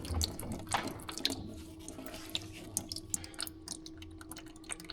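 Automatic transmission fluid drains from a salvaged man-lift, a steady trickling, splattering stream with irregular drips and small splashes, close and fairly quiet throughout.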